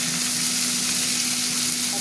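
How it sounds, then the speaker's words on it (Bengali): Potatoes and onions frying in a pan give a steady, even sizzle with a faint constant hum underneath, no voices. "পেঁয়াজটা ভাজা ভাজা হবে"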